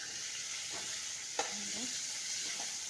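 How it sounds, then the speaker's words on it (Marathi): Chopped onion sautéing in a pan for a fish curry, a faint steady sizzle with one sharp clink of a utensil partway through and a few light scraping stirs. "कांदा घालून घेतलेला आहे तो परतून घेते आता मी."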